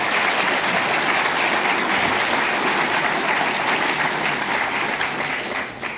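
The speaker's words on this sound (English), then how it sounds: "A round of applause" An awards-ceremony audience at a science and technology awards event applauds the general sponsors, a full, even roar of clapping hands held steadily for several seconds before easing slightly at the end.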